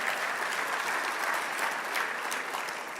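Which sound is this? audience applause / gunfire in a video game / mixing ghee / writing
audience applause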